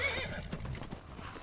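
In the Skyrim video game, a horse gives a sharp whinny followed by a few clopping hoof steps, all fairly quiet and close, with no speech over it.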